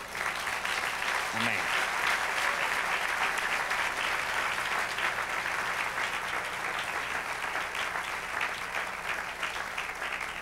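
A church congregation claps loudly and continuously during a service, a dense, sustained wash of applause with a voice briefly heard in the middle.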